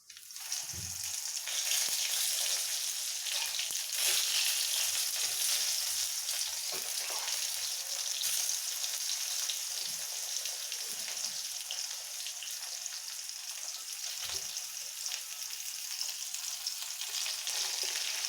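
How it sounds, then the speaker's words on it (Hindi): Ridge gourd pieces frying in hot oil with cumin, giving a steady loud sizzle with crackling pops throughout, no voices. "अब इसमें हम एक एक करके अपनी तोरी डाल देंगे।"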